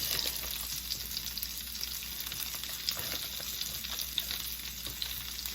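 Coconut shrimp frying in a pan produce a continuous, even hiss of oil with fine crackles, steady and moderately quiet throughout, with no voices.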